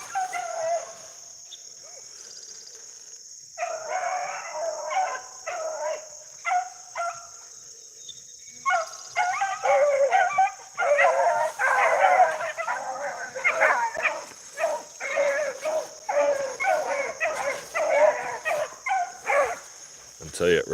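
Beagle hounds running a rabbit bay and yip in a steady stream of excited cries, fairly close and continuous, with pauses between bursts of barking.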